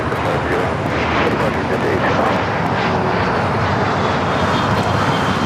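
Avianca airliner in special livery arriving at LAX from San Salvador on the south side, a steady broadband engine roar that holds loud and close throughout, with faint chatter mixed underneath.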